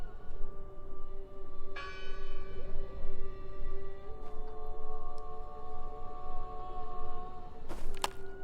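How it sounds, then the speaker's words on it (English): A deep church-style bell tolls in the horror adventure game Draugen, with two rich strikes whose long ringing hum lingers and decays between them, followed by a sharp clank near the end. "I heard the bell."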